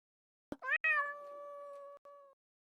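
A single drawn-out black cat meow, clear and close, rising into a sustained tonal cry that fades after about two seconds, preceded by a sharp tap, with no voices.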